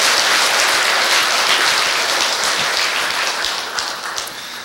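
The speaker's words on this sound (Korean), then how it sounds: "교구장 스님께 다시 한번 감사의 박수를 크게 부탁드리겠습니다" Loud, dense applause from the congregation at a Korean Buddhist military chaplains' day service, thanking the diocesan head monk, a continuous wash of clapping that tapers slightly at the end.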